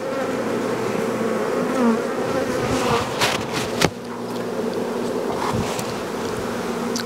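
Honey bees buzzing around beehives during the sourwood honey harvest, a dense, steady hum of many insects close by with a few brief knocks.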